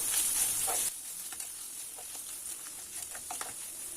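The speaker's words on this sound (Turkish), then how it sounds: "Salçamın kokusu çıkana kadar yine birkaç dakika boyunca kavurmaya devam edeceğim" Chopped onions with Turkish pepper paste (biber salçası) sauté in a pan for eggplant musakka. A bright, hissing sizzle starts loud, then drops to a quieter crackle broken by soft scraping stir strokes.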